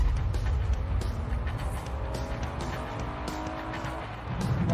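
A blue BMW speeds along a road with a steady, rushing engine and tyre roar heard from inside a following vehicle, swelling again toward the end.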